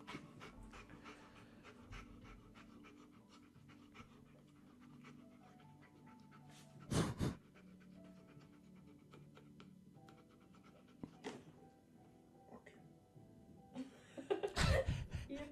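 A dog pants rapidly and steadily in a played video, faint and close-sounding, broken by a few sharp louder bursts like coughs or laughter.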